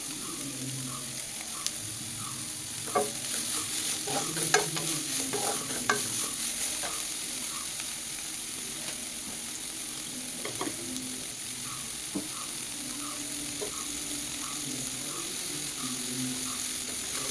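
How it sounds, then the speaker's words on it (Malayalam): Sliced onions with a pinch of salt sautéing in a pan for chicken kuruma, giving a steady soft sizzle with intermittent scraping stir strokes throughout, no talk. "സവോള നന്നായിട്ട് വഴന്നു വരാൻ വേണ്ടി വെയിറ്റ് ചെയ്യുക."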